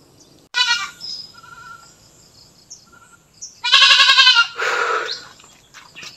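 Pet goats on a farm bleating loudly and close, one wavering cry early on, then two longer overlapping bleats near the end, with faint bird chirps in the quiet gaps.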